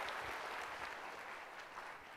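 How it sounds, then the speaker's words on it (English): An audience at a two-day conference session for CA students applauds steadily, a dense, continuous wash of clapping from a crowd that holds fairly even for the whole stretch. "Can we give a round of applause?"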